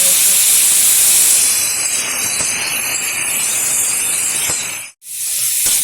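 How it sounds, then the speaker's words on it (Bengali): Chopped potato and cauliflower pieces hit hot oil for a fish curry, giving a loud, steady hiss of frying that cuts off abruptly near the end, then resumes briefly. "এখন দিয়ে দিচ্ছি টুকরো করে রাখা আলু আর ফুলকপি"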